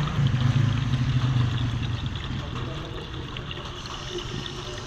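Coolant pours steadily into the radiator tank of a 2011 Ford Fiesta that overheats and loses coolant, a continuous close liquid gush over a low background hum.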